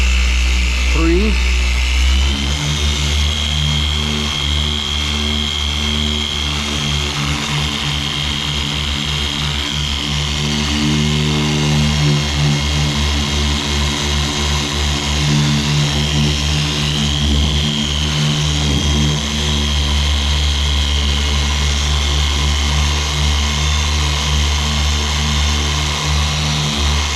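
A polishing machine runs a pad over a painted panel with NXTZEN Cut Master compound, making a loud motor drone that climbs in pitch early on as the speed is raised, then holds steady with a voice talking over it.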